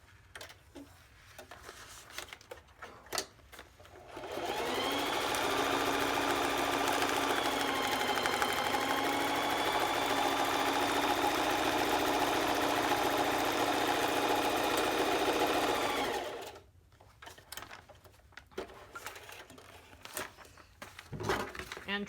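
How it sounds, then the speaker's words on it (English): A sewing machine stitches across the top edge of a fabric pressing pillow, running in one steady, humming whir for about eleven seconds, with someone talking briefly before and after. "So now we're going to sew across this top edge."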